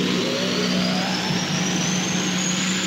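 A spaceship flywheel spins up in an animated series, a steady mechanical whir with a pitch climbing slowly and smoothly over a constant low hum, loud and alone.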